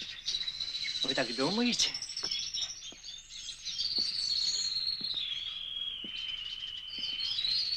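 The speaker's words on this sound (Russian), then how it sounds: "Наверное, так птицы поют только в раю." Birdsong in a Russian television drama scene, a sustained high trilling warble running continuously alongside cricket-like chirps, with a man's brief line of dialogue near the start.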